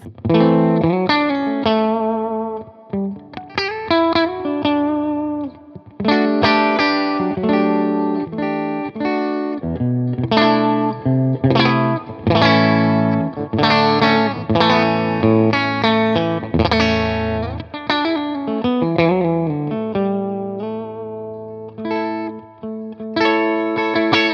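An electric guitar on its bridge pickup runs through a Tone King Imperial preamp into an Orange amp, playing a continuous chord-and-melody passage with effects and mild distortion, loud and upfront with no talking.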